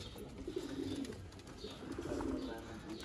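Sialkoti Jonsra pearl pigeons coo in low, soft, repeated rolling phrases, close by, over faint background noise.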